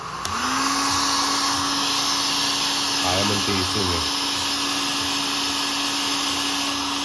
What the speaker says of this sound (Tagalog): At least dito, blow hair dryer lang.